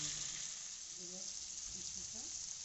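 Capsicum and onion frying and being stirred in a wok, a steady close sizzle with soft scraping stir sounds, no talk over it.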